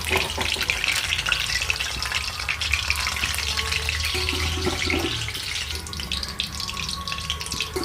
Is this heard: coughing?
no